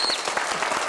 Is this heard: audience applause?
yes